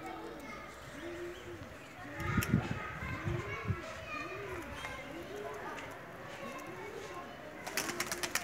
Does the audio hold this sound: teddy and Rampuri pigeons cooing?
yes